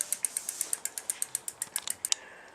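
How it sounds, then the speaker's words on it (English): A freshly oiled bicycle chain ticks steadily as the pedals turn, a quick even run of light metallic clicks, close and fairly quiet. "once we've got our chain nicely oiled up, you should hear that a little sort of movement noise"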